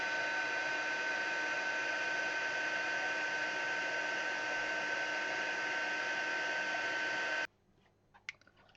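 A heat embossing tool blows hot air over a stamped image covered in embossing powder, giving a loud, steady whirring hum for about seven seconds before it cuts off, followed by faint handling clicks.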